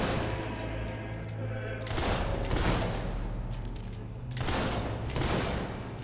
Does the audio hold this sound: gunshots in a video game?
yes